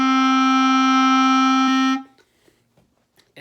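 One steady clarinet tone, the note re, rich in overtones, sustained for two seconds before stopping, followed by faint soft rustling.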